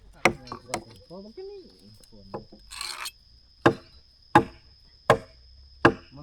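A knife chops outdoors at a forest camp, striking a wooden surface in sharp, separate blows. Several chops come early, then a pause with brief talk and a scraping rasp, then four evenly spaced chops ring out close by.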